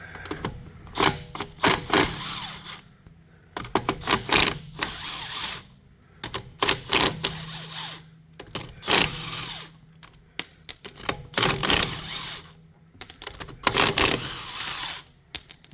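Wheel nuts being undone on a Sprinter van during a tire rotation, close, loud bursts of an impact wrench rattling in short spurts with brief gaps between them.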